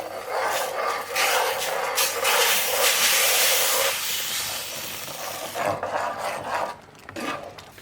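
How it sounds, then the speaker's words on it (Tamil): Water boils in a pan for pineapple rava kesari with a steady hissing, bubbling rush that swells in the middle and trails off with softer crackles. "இப்போ தண்ணி கொதிக்குது."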